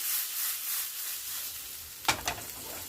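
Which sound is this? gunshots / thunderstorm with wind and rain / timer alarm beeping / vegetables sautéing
vegetables sautéing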